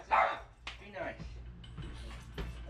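A dog gives a few faint barks and yips outdoors on a hot day in Arizona, the short sounds scattered among people's casual greetings and talk.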